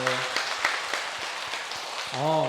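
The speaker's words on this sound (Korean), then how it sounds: "인사 박수로 격려해 주세요" A church congregation at a Sunday morning service gives a short round of applause for those newly baptized and confirmed, a soft, even clapping framed by a speaking voice at the start and end.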